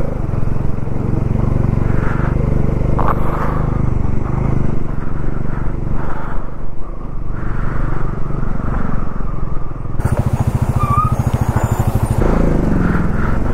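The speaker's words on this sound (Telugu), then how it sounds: "ఎన్ని లారీలు వస్తున్నాయి ఒకటేసారి" Lorries pass one after another on a mountain road between Leh and Manali, heard from a Dominar 400 motorcycle: loud, close engine and tyre roar with wind buffeting, swelling as each large vehicle goes by.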